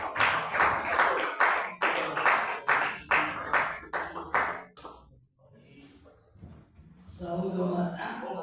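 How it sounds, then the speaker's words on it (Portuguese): A church congregation claps in steady rhythm during a worship service, a dense run of hand slaps that fades out, followed by quieter murmuring and a voice speaking. "As palmas são para Jesus."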